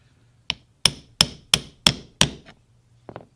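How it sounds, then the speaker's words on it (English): A small polished ball peen hammer peening a copper rivet on leather: six sharp, close metallic taps at an even pace, then a couple of lighter taps after a short pause. "I've got this little ball peen hammer that I polished and kind of tidied up, and it works good for braiding the rivet"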